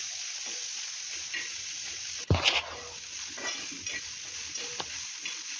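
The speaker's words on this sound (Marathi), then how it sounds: "लसूण आणि अद्रक हेही यामध्ये टाकून फ्राय करून घेऊया टोमॅटोचा कच्चापणा जाईपर्यंत आपण हे फ्राय करून घेणार आहोत" Tomato, onion, garlic and ginger masala fries in oil for misal pav, a steady close sizzle broken by a sharp scrape and clatter of stirring, then softer occasional stirring.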